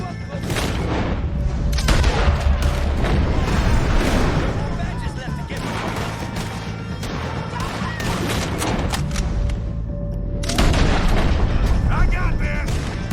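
A shootout against O'Driscoll gang members in Red Dead Redemption 2: loud, rapid rifle and pistol shots crack and boom in dense overlapping bursts, close and echoing, with heavy low-end thumps throughout.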